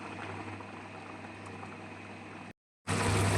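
Potato curry in a pot for bhanga aloor dum simmers with a soft, steady bubbling hiss that is quiet and close, broken by a brief dropout near the end before it resumes louder.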